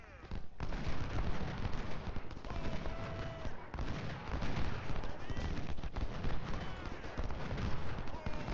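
Massed musket volleys and artillery rumble on a Battle of Shiloh field in Ultimate General: Civil War, a continuous crackling roar of distant and near gunfire with occasional heavier booms, steady and loud throughout.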